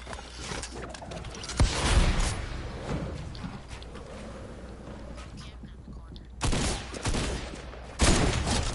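Rapid bursts of gunfire in a shooter video game, with a loud volley near the start and more sharp clusters of shots later, separated by stretches of quieter mechanical clicks and rustle, with a voice talking in places.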